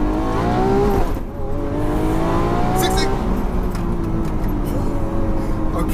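Single-clutch Lamborghini Aventador launching hard from a standstill, its engine screaming up through rising revs with a brief gear-change dip, loud and close, with a voice talking over it.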